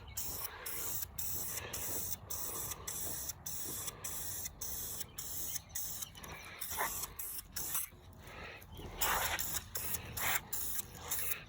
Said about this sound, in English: we are going to spray that with some Wrinkle Plus 2 just to kind of match everything